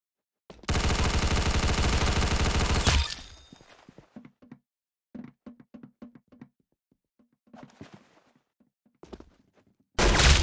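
Rapid automatic gunfire from the Roblox shooter Arsenal bursts loud and continuous for a couple of seconds, then breaks into scattered single shots and short clicks with quiet gaps, before another loud burst at the end.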